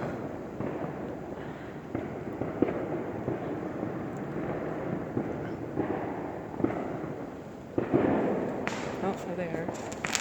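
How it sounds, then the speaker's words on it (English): Neighborhood fireworks pop and crackle continuously at a distance, a rumbling mix of bursts and reports all around, with a few louder close cracks near the end and some faint talking underneath. "every single neighbor is setting off fireworks"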